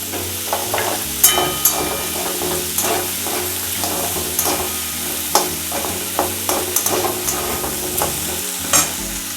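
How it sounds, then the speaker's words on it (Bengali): Chickpeas and ginger stirred and fried in a pan: loud, continuous sizzling broken by frequent sharp spatula scrapes and clanks in an irregular rhythm, close up and with no talking. "ছোলাটা একটু নাড়াচাড়া করে দিয়ে দিলাম আদা আদা কোঁড়াটা দিয়ে দিচ্ছি"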